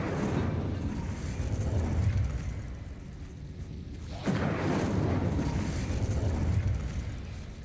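Incendio fire spell cast in Hogwarts Legacy, a broad rumbling burst of flame that swells, dips briefly, then flares again in a second loud roaring wave.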